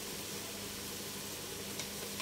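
Dried chili powder and turmeric sautéing in hot oil for a hilsa fish and cauliflower curry, a steady soft sizzle with faint hiss throughout, no voices.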